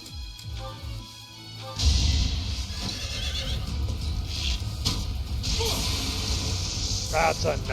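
Horse neighing in the video game Fire Emblem Three Houses amid battle sound effects: swooshes, clashing hits and hoof clatter, with game voices speaking over the action.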